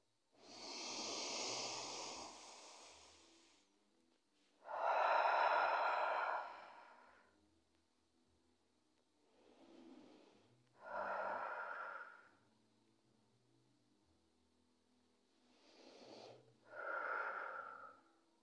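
Slow deep breathing during a back-stretching exercise: long audible inhales and exhales, some wheezy and airy, repeating every few seconds close to the microphone with no talk.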